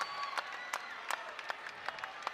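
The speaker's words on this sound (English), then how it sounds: "Listen to this crowd as Johnny McCants gets ready to exit." Basketball arena crowd applauding and cheering during a timeout as seniors exit the game, a soft, distant wash of clapping with periodic sharper bursts.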